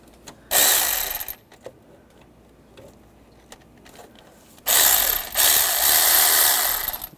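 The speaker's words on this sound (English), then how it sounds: "We have to loosen up the worm clamp on that. We're going to use the 7mm socket." A socket wrench with a 7mm socket loosens a worm clamp on a hose at the thermostat housing of a 2011-2015 Chevy Cruze, giving two close, brisk bursts of ratchet clicking separated by a quiet pause.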